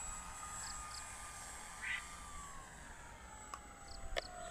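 A Dynam Primo STOL radio-controlled airplane flies nearby, its electric motor giving a steady whining drone that holds fairly level throughout, with faint background noise outdoors and no talking.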